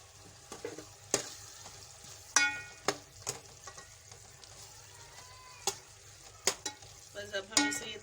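Keema of minced meat, with whole green chillies and fresh coriander, stirred in a pan after frying until the oil separates: soft sizzle under sharp, irregular scrapes and clanks of a spoon, moderately close.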